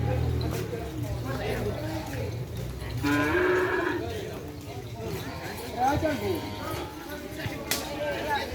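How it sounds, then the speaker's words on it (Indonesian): A pair of cattle being led along by a group of people moo repeatedly, loud and close, over continuous outdoor chatter and scattered hoof clops. "Ini ada sapi datang juga."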